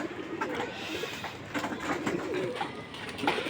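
Pigeons cooing near their home coop after being let out, soft repeated coos over a steady murmur of background noise, with a few scattered calls and no close talk.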